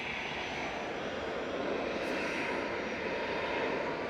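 An EasyJet airliner departs Manchester Airport bound for Naples, its steady broadband jet roar filling the air evenly from start to finish without voices.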